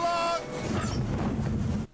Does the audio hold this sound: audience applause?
no